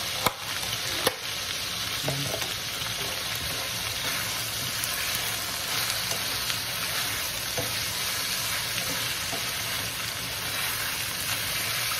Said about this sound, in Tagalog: Napiprito yung karne, napiprito din po yung ating bawang.